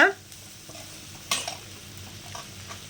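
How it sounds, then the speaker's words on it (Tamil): Egg stir-fry (muttai poriyal) stirred in a pan over high flame, a quiet steady sizzle with a sharp utensil scrape near the start and occasional soft clinks, close by with no voices. "ஹை ஃப்ளேமில் வச்சுட்டு நீங்கள் நல்லா கிளறி விட்டுருங்க"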